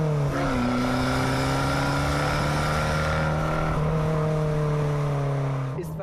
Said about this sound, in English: It's all due to the dual-mode Record Monza exhaust system with 4 tailpipes.